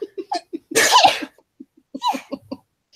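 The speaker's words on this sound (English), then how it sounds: "Sorry, sneeze." A single loud, forceful sneeze bursts out up close, framed by short breathy sounds and a second smaller sneeze-like burst after it.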